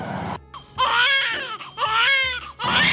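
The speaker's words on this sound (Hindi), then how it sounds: "बालक रोने की आवाज आओ है।" An infant cries loudly and close by in repeated wailing bursts separated by short breaths, rising and falling in pitch, with nothing else heard.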